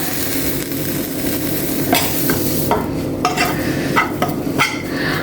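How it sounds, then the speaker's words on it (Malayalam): Garlic cloves and small onions sizzle in hot oil in a pan, with a steady frying hiss broken by several sharp scrapes and clinks of a spoon stirring close up. "അതിലേക്ക് 2 അല്ലി വെളുത്തുള്ളി ഇട്ട് കൊടുക്കുന്നുണ്ട്. അതുപോലെ കുറച്ച് ചെറിയ ഉള്ളിയും കൂടി ഇട്ട് കൊടുക്കുന്നുണ്ട്."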